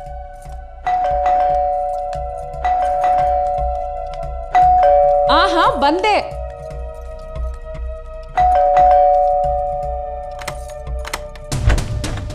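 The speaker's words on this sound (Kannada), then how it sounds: "ಇಷ್ಟೊತ್ತಲ್ಲಿ ಹಿಂಗ್ ಬೆಲ್ ಮಾಡ್ತಾ ಇದಾರೆ" A doorbell chimes several times at the door of a home in a Kannada feature film, with ding-dong rings a few seconds apart. A voice speaks between the rings, and a thud comes near the end.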